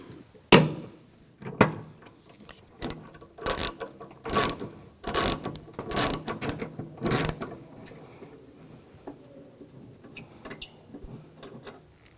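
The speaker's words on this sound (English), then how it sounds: "Using a 10mm socket, loosen this bolt up." Ratchet and 10mm socket loosening a hood hinge bolt on a Nissan Rogue, heard as close, loud bursts of rapid clicking in uneven runs with short pauses, then fading to quieter handling noise.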